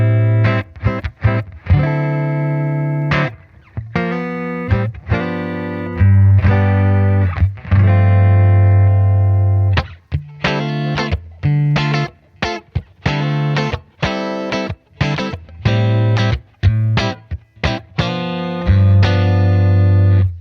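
A clean electric guitar plays a series of plucked notes and chords from a Blackstar Beam Mini amp, warm low end, with short pauses between phrases.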